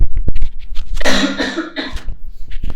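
A woman with a lingering cold coughs hard several times close to the microphone, a loud harsh burst in the middle, with smaller throat noises around it.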